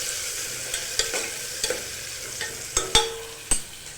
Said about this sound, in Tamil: வெங்காயத்தை போட்டு நல்லா வதக்குங்க